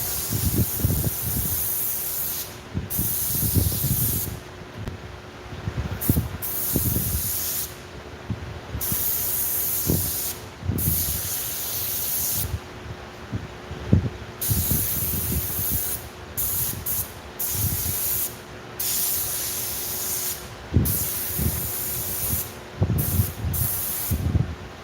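A spray can applies a matte coating to a snake model in repeated short hissing bursts, some quick and clipped, others longer, with brief pauses between them.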